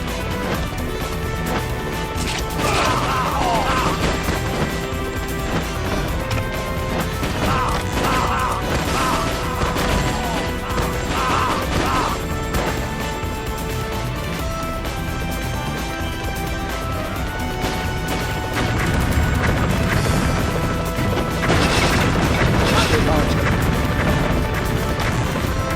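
Grenade blasts and crashing impacts from Metal Slug 3D combat, several loud bursts scattered over a dense, busy stretch of game audio with machinery and music underneath, no talk.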